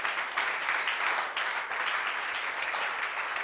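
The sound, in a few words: congregation applauding in church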